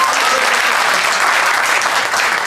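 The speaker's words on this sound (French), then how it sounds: "Applaudissez pour lui" Audience applause fills the room, dense and loud with steady clapping from many hands that holds evenly and dips only slightly near the end.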